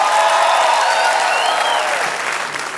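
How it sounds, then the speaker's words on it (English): Stand-up comedy show audience in Kenya breaking into loud, dense applause, a continuous wash of clapping with some crowd noise that slowly fades toward the end. "Give me a round of applause."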